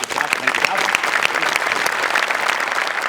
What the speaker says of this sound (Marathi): त्याकरता तुमच्यासाठी टाळ्या